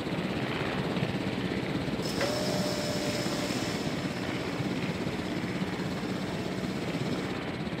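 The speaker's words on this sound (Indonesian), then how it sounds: "Tapi ada suara helikopter." A helicopter in the dinosaur-park game Jurassic World Evolution drones on as a steady, fairly quiet rotor whir and does not change for the whole stretch. No one speaks over it.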